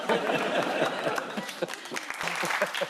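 A studio audience on a British topical comedy panel show breaks into dense, steady applause with scattered chuckles mixed in, filling the whole stretch at an even, moderately loud level.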